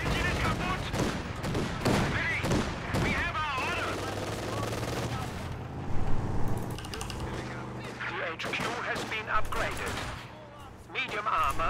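An MG42 machine gun in Company of Heroes 2 fires in dense bursts amid wider battlefield gunfire and explosions, with someone talking over the combat throughout.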